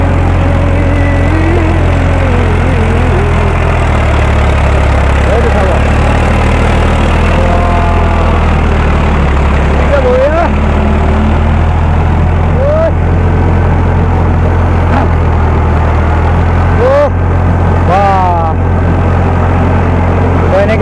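A tractor engine runs in a paddy field in a Karbi Anglong village, a loud steady drone throughout with voices rising over it at times.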